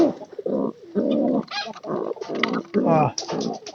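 Domestic pigeons cooing close by in a coop, several soft throaty coos in a repeated rhythm with short pauses between them, loud and unaccompanied by talk.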